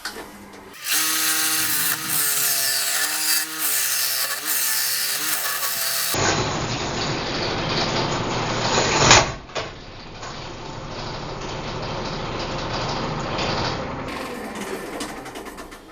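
A carbide cutter hollows a wooden vase on a lathe, starting with a steady whining grind, then a sharp knock from a catch, followed by rougher continuous cutting noise close by.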